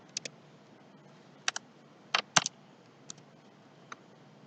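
Keys are tapped on a computer keyboard, with sparse, quiet clicks in pairs and small clusters and a couple of firmer presses like the enter key, close-up against a faint background hum.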